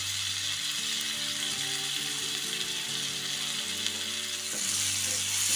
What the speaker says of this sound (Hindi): टमाटर को तब तक पकाएंगे जब तक इसमें से ऑयल नहीं छूटने लगता